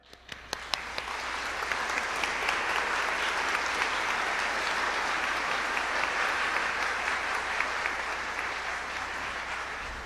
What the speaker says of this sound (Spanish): Damos aplausos para la gran maestra